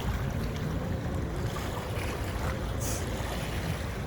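Steady broadband wash of water and wind on a private park's pond or lake, a continuous surf-like rush with low rumble, constant and fairly close, no voices.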